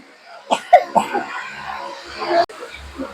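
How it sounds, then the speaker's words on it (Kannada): A few short, close coughs in quick succession, with some voiced sounds between them. "ಕೆಮ್ಮು ನೋಡು"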